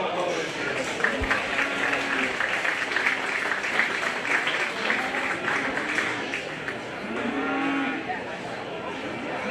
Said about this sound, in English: One more round of applause for all the volunteers.